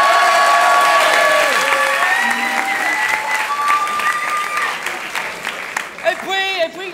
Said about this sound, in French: On peut applaudir très fort Antoine.